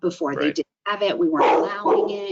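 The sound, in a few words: dog barking in the background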